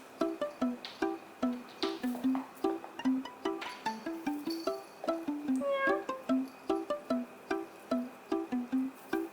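A cat meows over and over in a rapid, rhythmic series of short close cries, with no speech over them, at a fairly even pace throughout.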